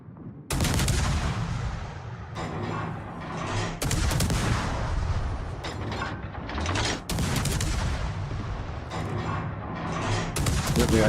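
World of Warships naval gunfire: loud, dense salvos of heavy ship guns firing in repeated bursts, each blast booming and crackling before the next, nearly continuous and close throughout.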